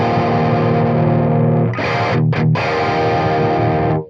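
Electric guitar runs through the BIAS Amp 2 amp simulator with the bias pushed, giving a loud, heavily distorted sustained chord with two brief choppy breaks before it cuts off. No talking.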